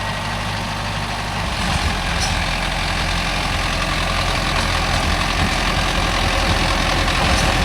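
Mahindra Arjun Novo 605 tractor driving a rotavator, a dense continuous engine drone with a churning, gritty roar from the working blades, steady and close throughout.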